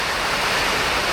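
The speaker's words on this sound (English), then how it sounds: "It's raining. It's just started raining here a bit." Rain just starting to fall outdoors during maintenance of a 5.8hp two-stroke Parsun outboard, heard as a steady broadband hiss with no talk.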